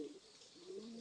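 Racing pigeon landing at its loft after a 107 km race, giving soft low coos in a short, quiet burst close by.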